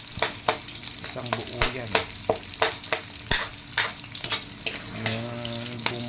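Garlic fries in hot oil while a spatula scrapes and taps the pan in quick irregular strokes over a steady sizzle, close, with a brief spoken remark.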